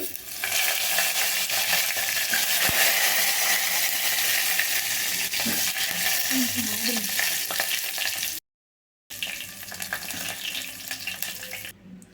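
Garlic, dried red chillies, asafoetida and curry leaves frying in hot oil for a tempering for rasam, giving a steady loud sizzle that cuts out briefly near the end and then resumes.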